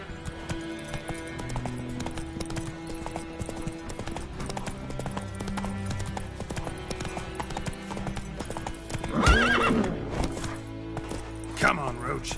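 Roach the horse gallops in The Witcher 3 video game, brisk rhythmic hoofbeats pounding steadily under music, with a sharp louder flurry and a whinny-like cry midway through.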